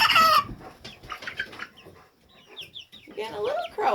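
Chickens cluck and a young rooster attempts a crow on a hobby farm as the birds are moved to a bigger hut, with scattered clucks and squawks, a short strained crowing call, and a person talking nearby.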